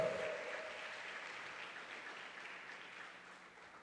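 A church congregation's applause fills a large room, steady and moderately distant, slowly fading over a few seconds.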